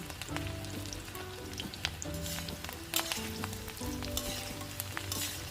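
Chopped garlic fries in oil in an iron wok for street-style egg chowmein, a soft continuous sizzle with small crackling pops, close and steady with no talk.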